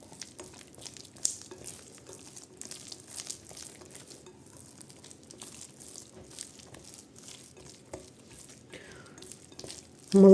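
Soft, sticky squelching and slapping as butter-enriched dough for an Ossetian pie is worked by hand, quiet and continuous with a few sharper pats.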